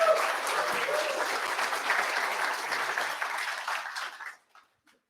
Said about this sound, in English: Please give a round of applause to the technical team working very hard here.